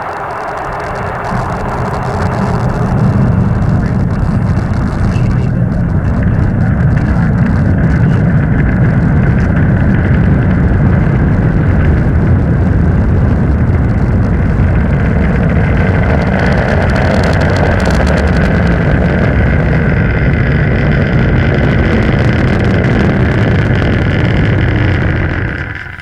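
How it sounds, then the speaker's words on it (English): A Falcon rocket lifts off carrying the Deep Space Climate Observatory (DSCOVR), its deep, steady roar rising after a brief quiet start and holding loud and unbroken, with rumbling wind-like noise to the end. "And liftoff. The Falcon takes flight, propelling the Deep Space Climate Observatory on a million-mile journey"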